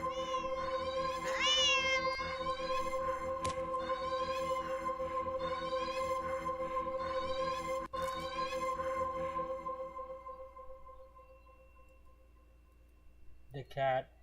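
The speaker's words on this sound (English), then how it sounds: "You keep petting the cat." A cat in a video game meows in drawn-out, wavering cries while being petted, over steady tonal game music, ending in a short sharper yowl.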